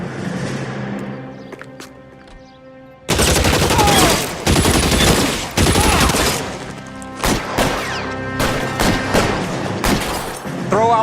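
Heavy gunfire in a shooter video game, quiet at first, then a sudden loud burst of rapid automatic shots with booms and thuds rattling on and fading in waves.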